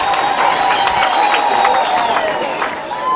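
A crowd at a deacons' ordination ceremony claps in sustained applause for Father Thomas, dense and fairly loud, with a steady tone sounding through it.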